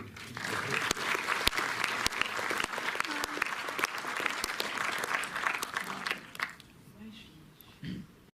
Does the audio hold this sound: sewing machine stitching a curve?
no